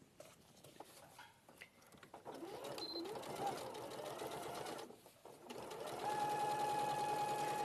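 Sewing machine stitching three sides of a side pocket in short bursts, a quiet rapid whirring that starts and stops, then runs longer near the end, with soft handling noises and faint voices around it.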